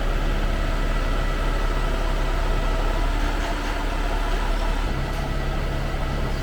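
Concrete pump truck engine running at a tight pour site between buildings in Da Nang, Vietnam: a steady, low diesel drone with constant mechanical hum, loud and unbroken, no talk over it.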